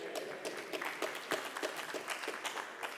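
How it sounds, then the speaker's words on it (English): A conference audience claps in a loose, rhythmic pattern of distinct handclaps, moderately loud and steady throughout, with no voices over it. "You should be clapping Judith, not me."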